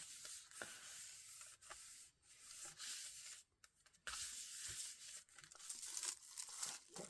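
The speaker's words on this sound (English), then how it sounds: "I'm giving it a gentle rub down with the glue." A glued paper card is gently rubbed by hand, giving soft, continuous papery scuffing and crinkling with brief pauses, close and quiet.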